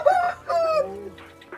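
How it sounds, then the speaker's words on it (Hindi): A single farm rooster crows up close, a drawn-out call broken into a couple of phrases, followed by softer clucking from nearby hens. "बहुत ही प्यारा मुर्गा"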